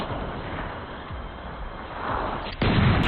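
A few dull gunshots thud over a rumbling background in a film scene, ending in a sharper, louder blast.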